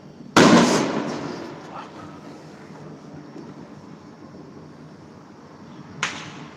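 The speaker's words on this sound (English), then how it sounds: "I wonder how far these fireworks are that I'm hearing." A sharp firework bang bursts out, then a long faint rumble trails off, and a second, softer pop follows a few seconds later.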